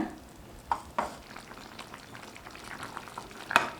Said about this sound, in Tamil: ஒரு நாலஞ்சு நிமிஷம் கொதிக்க வச்சுக்கிட்டா சரியாக இருக்குங்க